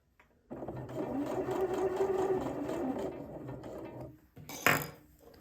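Sewing machine stitching fabric for a dress runs in a steady rapid mechanical chatter for about three and a half seconds, then stops, followed by a short sharp clack and rustle near the end.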